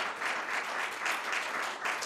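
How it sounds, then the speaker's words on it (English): An audience claps after a film screening, a steady wash of applause from many hands that holds at an even level throughout. "Can we get another round of applause?"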